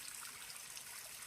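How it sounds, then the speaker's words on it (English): Water runs down a steep mountain trail on Franconia Ridge like a river, a constant broad hiss and trickle, close and steady, with high wind in the background. "It's so steep, and it's a river."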